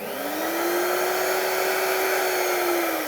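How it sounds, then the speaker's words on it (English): Museum vacuum cleaner switched on at high suction, its motor whine rising quickly and then holding a loud, steady airy roar with a continuous tonal hum. "So if I just switch this museum vac on, you'll hear it's at quite a high suction."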